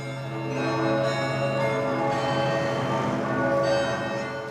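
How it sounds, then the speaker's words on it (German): Church bells of the city of Halle toll together in a dense, sustained peal, steady and fairly loud throughout, rung at noon in remembrance of an attack. "Um kurz nach 12 läuteten die Kirchenglocken der Stadt zur Erinnerung an den Beginn des Anschlags."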